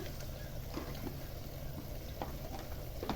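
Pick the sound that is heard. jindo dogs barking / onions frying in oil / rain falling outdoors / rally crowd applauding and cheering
onions frying in oil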